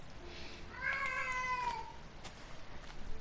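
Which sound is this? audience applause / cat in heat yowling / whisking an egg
cat in heat yowling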